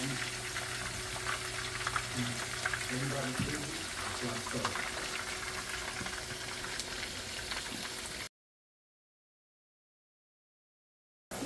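A batch of potatoes fries in a pan, giving a steady broadband sizzle with soft stirring clatter for about eight seconds, then stopping abruptly; a voice speaks faintly underneath.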